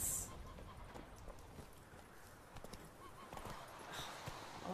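Hooves of the horse Roach clop in The Witcher 3, a quick uneven patter of steps at moderate distance, mixed with game ambience and a brief voice.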